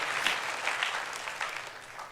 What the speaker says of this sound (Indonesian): Berikan tepuk tangan bagi nama Tuhan.